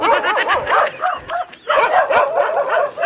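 A dog yips and whines in rapid, high-pitched bursts close by, nearly continuous with one short gap.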